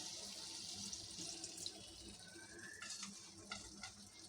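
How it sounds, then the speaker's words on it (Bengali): A little water goes into a pan of browning potatoes and drumstick vegetables, splashing faintly and hissing softly against the hot pan over a few seconds. "হালকা পানি দিয়ে দিই"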